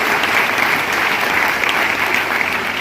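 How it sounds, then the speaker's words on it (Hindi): Loud, sustained applause from a seminar crowd honouring a speaker at a success seminar, a thick unbroken roar of clapping hands close and strong from start to finish. "अभी मेरे ग्रेट अपलाइन जतिन सर, मैं चाहूंगा जतिन सर के लिए भी जोरदार ताली होनी चाहिए"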